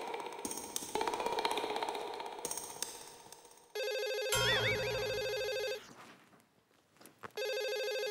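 A telephone rings in a TV comedy scene with a bright, steady electronic tone in bursts, separated by short pauses and clicks, with no voices.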